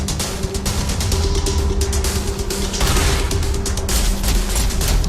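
Rapid gunshots crackle through a fight in The Fall video game, a dense run of sharp reports over a steady mechanical hum, loud and continuous throughout.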